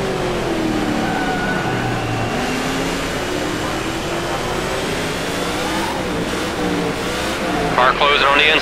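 Race car engines roar steadily throughout a NASCAR 14 video game race at Sonoma, with a loud continuous drone and pitch shifts as cars pass and close in, a spotter's voice talking over it.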